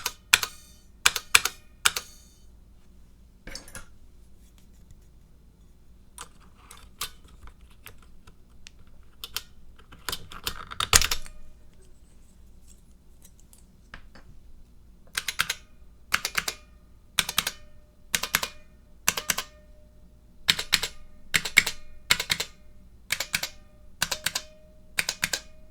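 Keys on a Model F keyboard are pressed one at a time, sharp loud clicks in scattered single strokes, then a quicker steady run of repeated presses, up close in a quiet room.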